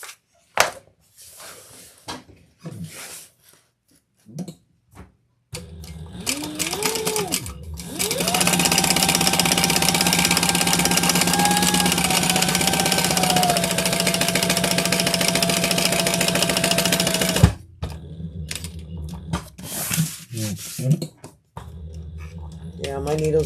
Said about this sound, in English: let's turn and top stitch